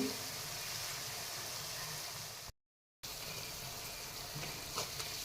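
Finely chopped coriander sizzles softly in a masoor dal tempering over medium heat, a faint, even frying hiss that cuts out for a moment before continuing.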